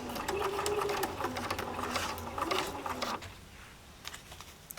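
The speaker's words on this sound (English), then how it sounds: "I'm sewing right on that line." A sewing machine stitches along a quilt line on an intermediate sampler quilt, a close, rapid mechanical chatter for about three seconds before it stops, leaving faint handling noise.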